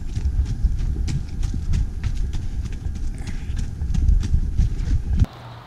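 Horse named Benny trotting on a summer forest trail, steady clip-clop hoofbeats close by under wind and rustle, stopping abruptly near the end.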